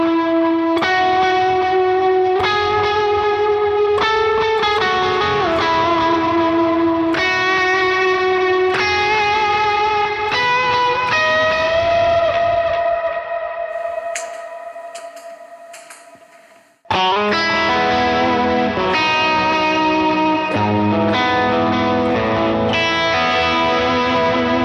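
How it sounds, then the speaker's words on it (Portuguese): Electric guitar through second-stage overdrive with reverb and delay, playing sustained melodic notes that ring out and repeat, then a long note fading into echoing decay before a loud strum returns and the playing resumes. "a primeira coisa seria um drive de segundo estágio com reverb e delay"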